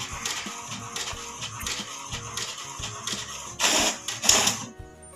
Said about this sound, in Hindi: यहां पे आप लोग देख सकते हैं कि प्रिंट हो रहा है